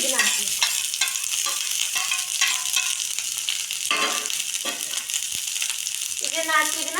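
Dried red chillies and chopped onion fry in a pan for chutney, giving a close, crackling sizzle with stirring scrapes, while a voice talks over it at times.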